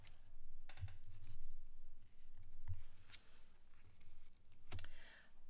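A deck of tarot cards being cut by hand, with a few soft, quiet clicks and riffles spaced out over a few seconds against a faint room hush.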